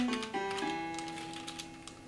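Computer keyboard keys tap in a quick run of light clicks, played as musical typing in GarageBand, with sustained synth tones ringing out from the key presses.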